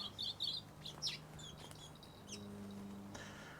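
Small birds chirp in quick bursts near the start, then scattered calls fade into a soft, steady outdoor hum.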